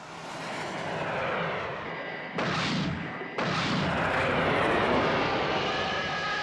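Puppet TV action scene with guns firing at alligators, a dense roaring barrage of rumbling gunfire and blasts that swells in loud, sustained bursts, with a sharp cut partway through and no speech.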